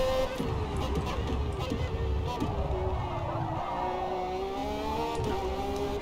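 A fast car in Forza Motorsport accelerates out of a corner, its engine note rising steadily in pitch and staying loud and continuous, with a person talking over it.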